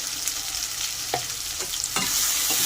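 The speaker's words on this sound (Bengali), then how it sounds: "এটাকেও ভালো করে আমি ভেজে নেব" Shrimp and banana flower fry in a pan with ginger-garlic paste, giving a steady close sizzle broken by a few sharp stirring scrapes and clicks.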